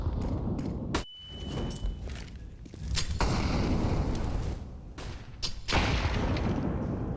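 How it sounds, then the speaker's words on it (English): A grenade detonates in Counter-Strike on the Mirage map at a professional esports match, a heavy boom followed by scattered gunfire and game effects, fairly loud against constant background noise. "Nice nade onto Yabi."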